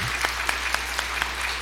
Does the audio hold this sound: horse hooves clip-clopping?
no